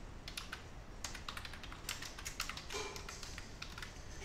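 Fingers type on a computer keyboard while writing a letter in MS Word, with quiet, irregular clusters of close key clicks and taps over faint room noise.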